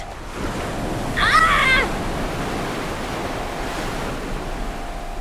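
Rough Atlantic sea waves surging where they meet the North Sea, a steady broad wash of surf and wind noise throughout, with a brief human exclamation cutting in early.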